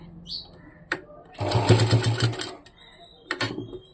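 A sewing machine stitches cloth along a double fold in one loud, rapid burst of about a second, set between brief clicks and a quiet voice.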